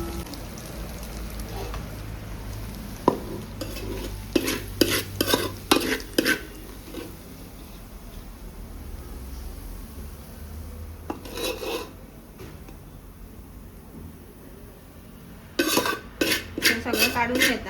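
Metal spatula scraping and clattering against a pan as chicken egg fried rice is scooped out, in quick bursts of scraping separated by quiet pauses, close and fairly faint.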